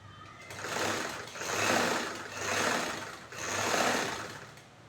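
Sewing machine stitching two chudithar bottom pieces together, its steady whirring hum rising and falling in four long bursts as the fabric is fed through, close and alone.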